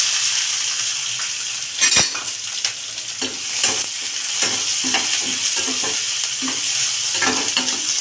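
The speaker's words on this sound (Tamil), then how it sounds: "வெங்காயத்தை நல்லா வதக்கணும்" Onions and lentils sautéing in a pan for beans paruppu usili, a steady close sizzle with repeated scraping stirs and clinks of a utensil against the metal.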